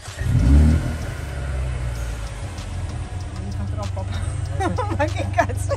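A low-slung new car with push-button start fires up with a loud roaring burst, then settles into a steady deep idle rumble that continues while people talk nearby.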